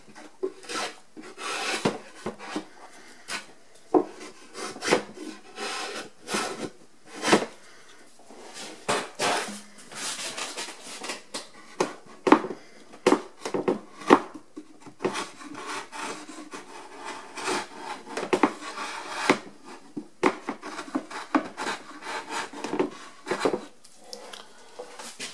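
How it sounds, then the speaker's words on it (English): A drawknife shaves wood while a wall shelf is shaped in a woodshop, making a series of irregular scraping, rasping strokes, some sharp and some soft, close and fairly quiet, with pauses between the cuts and no voices. "I found to get this down close is with my drawing knife, believe it or not"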